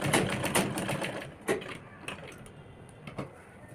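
Lace being stitched onto a homemade garment on a sewing machine, a rapid mechanical whirring in short bursts with pauses between runs, fairly quiet and close.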